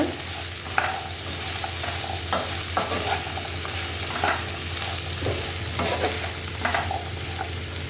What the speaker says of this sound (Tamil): ஸோ இது எல்லாமே இப்போ நல்லா கலந்து விட்டுக்கோங்க